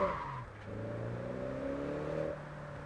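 A car engine in the racing game JDM Japanese Drift Master, on a quarter-mile drag track, drones and climbs steadily in pitch as it revs and accelerates, with a faint tyre whir beneath.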